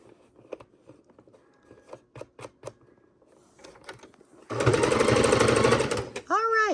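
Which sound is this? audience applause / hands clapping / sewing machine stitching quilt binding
sewing machine stitching quilt binding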